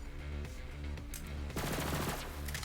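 A gun with odd recoil fires in Borderlands 3, producing a steady run of loud, rapid automatic shots over a dense game soundscape with no talking.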